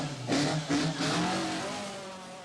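A rally car on the 1977 Lombard RAC Rally revs hard nearby, engine note rising in a few surging bursts before settling into a steady fading drone.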